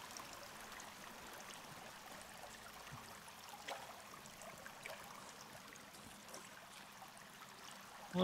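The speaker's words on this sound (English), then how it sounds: "I don't like that this is water." Steady flowing stream water in the game Sons Of The Forest, a continuous soft trickling and gurgling wash at low volume with no talking over it.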